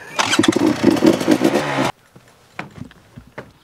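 A motorcycle engine revs loudly for about two seconds in a burst of rising, throaty roar, then cuts off abruptly, leaving quieter scattered sounds.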